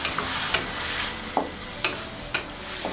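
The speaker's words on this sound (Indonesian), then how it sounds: "Lalu kita aduk merata." Chayote stir-fry with oyster sauce, pepper and sugar being stirred in a pan: repeated scraping clacks of a utensil against the pan at irregular intervals over a steady soft sizzle, close and moderately loud, no talking.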